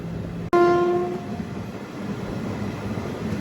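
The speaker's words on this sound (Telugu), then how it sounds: "హాంకింగ్ మీద హాకింగ్ కొడుతున్నాడు" A locomotive on a single-line train route from Tirupati sounds one loud, sharp horn blast after a sudden click, then rumbling rail noise carries on steadily.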